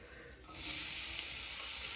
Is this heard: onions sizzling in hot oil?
yes